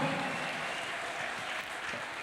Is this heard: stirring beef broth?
no